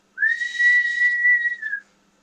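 A person whistling to a dog: a single sustained, fairly loud whistle held steady for about one and a half seconds, then dropping slightly at the end, with no voices.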